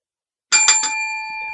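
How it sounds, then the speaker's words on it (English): A bright bicycle-style bell rings three quick times close by, and its metallic tone hangs on and slowly fades in the quiet that follows. "ring a bell or something."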